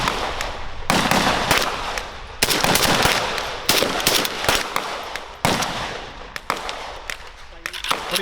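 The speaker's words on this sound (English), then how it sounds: "What are you shooting?" Gunfire at an outdoor shooting range: sharp, loud shots in quick bursts and single cracks, overlapping with other shooters, heavy echo filling the gaps.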